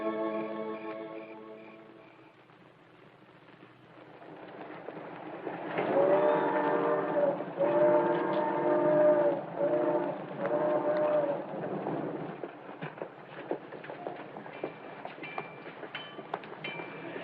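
A train pulls into a railroad station, rumbling louder from far to near with steady clatter and harmonic horn-like tones, then easing off into scattered clanks and station noise; no talking.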